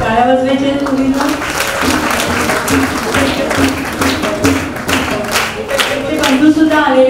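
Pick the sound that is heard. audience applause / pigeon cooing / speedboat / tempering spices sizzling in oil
audience applause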